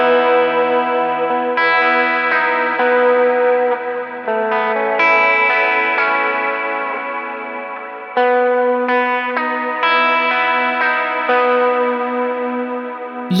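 An electric guitar runs through the Tube Screamer-style overdrive of an Ampero II Stomp, playing sustained, distorted chords and notes in loud phrases with brief breaks and a wash of reverb.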